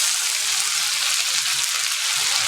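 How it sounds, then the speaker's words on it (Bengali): Minced garlic fries in a pan with a bright, even, continuous sizzle heard up close, steady in loudness and free of talk. "রসুনটা খুব বেশি ভাজবো না, আচ্ছা হালকা একটা কালার আনবো"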